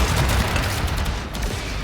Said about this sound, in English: We're going to shoot all 4 leg joints here. With our Mausolon, our heavy weapon.